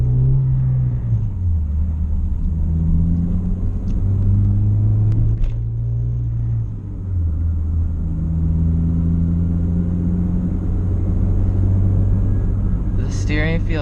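Inside a 2012 Honda Fit fitted with new engine mounts and rigid collars, the engine gives a low, steady rumble that rises and falls with driving, while a person talks over it.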